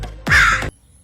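A man imitates a crow's caw with his voice: one loud, harsh, drawn-out call of about half a second, alone, with quiet before and after.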